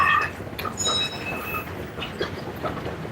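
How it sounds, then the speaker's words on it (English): A train pulling into a station in East Harlem, with a steady rumbling roll, a few high squealing wheel or brake tones and clattering metallic noise, heard close and continuous. "Let me get this train."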